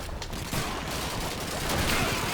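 Dense, sustained gunfire in a World War II shooter game rings out continuously, with sharp rifle shots layered over a constant battle din.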